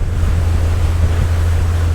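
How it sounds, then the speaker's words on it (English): Inside a Princess motor yacht, the engine exhaust gives a steady, low droning rumble that stays even throughout, mixed with broadband wind and water wash and no speech. "You just have a quite pleasurable exhaust sound out the back."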